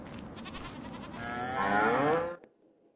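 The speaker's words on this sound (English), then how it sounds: "One thing we can do is sell off some of these Angus cows" A long, low moo from an Angus cow in the Farming Simulator 25 video game swells and rises, loud and close, then cuts off abruptly into quiet after about two and a half seconds.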